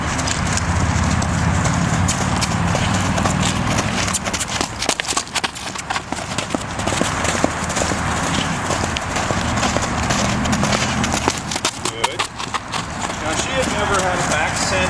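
A French Warmblood horse canters on sand with a steady, rhythmic clip-clop of hooves, close and clear, while someone talks over it throughout.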